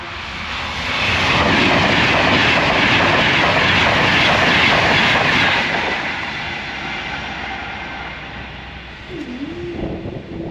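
A loud rushing roar swells and holds as a fast Avanti West Coast mainline train passes close by at a level crossing, then fades into a lingering rumble.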